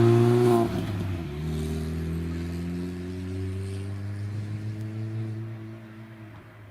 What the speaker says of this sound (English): And we've got a course car coming up the hill at the moment.